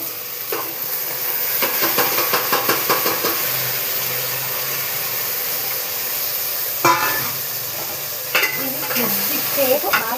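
Ivy gourd and drumstick curry with tomatoes fries in a pan, a steady close sizzle broken by repeated scraping stirs and a few sharper clanks of the spoon against the pan.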